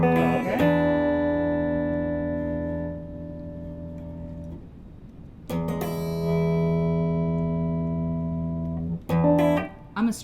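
Electric guitar with humbucker pickups played through an amp, clean sustained chords ringing out and decaying, struck again after a pause, with a few quick strums near the end.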